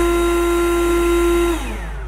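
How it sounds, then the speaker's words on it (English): A Milwaukee cordless leaf blower with a variable trigger runs at a steady, loud, close whine with a strong tonal hum, then spins down and softens near the end, with no talking. "Okay, it still sounds like a blower,"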